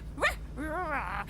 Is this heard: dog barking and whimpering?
yes